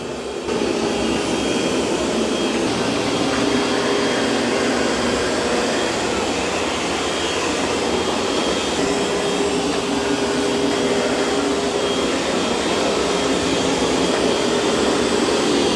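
A Roborock S8 series robot vacuum running over carpet, a loud, steady whirring suction drone that holds constant from start to finish.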